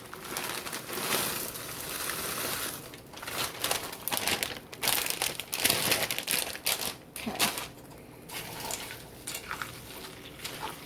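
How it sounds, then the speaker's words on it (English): Frozen corn spills from a crinkly 12-ounce plastic bag into a pot for a one-pot cheesy taco pasta, with loud close crinkling and a patter of kernels that swells and fades over about ten seconds. "I'm going to add half of this bag of corn."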